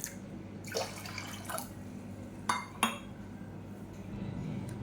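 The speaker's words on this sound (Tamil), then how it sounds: "இப்போ இதில் இன்னும் கொஞ்சம் ஒரு டம்ளர் அளவுக்கு தண்ணி சேர்த்துக்கலாம்" A tumbler of water poured into a cooking pot of rice and green gram porridge, with a few soft splashes and two sharper clinks of the tumbler against the pot, close by and without speech.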